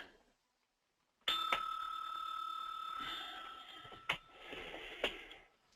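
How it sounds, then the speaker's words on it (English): A bell is struck once after a brief silence and rings with a bright, sustained tone that slowly fades. Two more sharp strikes follow later, louder than the background. "All rise for the ringing of the bell."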